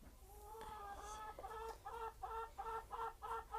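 Chickens cluck repeatedly in a farmyard where rabbits are also kept, a steady series of close, moderately loud clucks and calls rising in rhythm against faint background noise.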